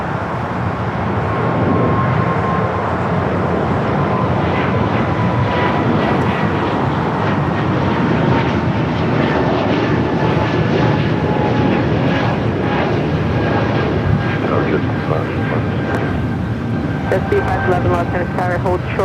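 A SkyWest jet roars down runway 25 right at Los Angeles International Airport in an 11-knot wind, its engine noise steady and powerful for a long stretch while air traffic control radio chatter runs underneath.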